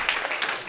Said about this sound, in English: So just give yourself a round of applause.